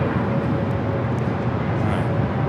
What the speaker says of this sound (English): Spirit Airlines 153 taking off to Houston Intercontinental on the A321 Neo